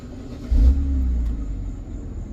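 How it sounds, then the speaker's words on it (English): A BMW X5 E70 engine cranks and catches, then settles into a steady low idle rumble, close up and alone. "Alright, start the car."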